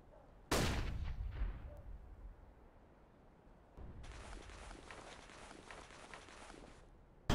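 Flashbang grenade bursting in CS:GO, one sharp loud bang that decays quickly, followed by quieter rustling game noise and a later steady hiss.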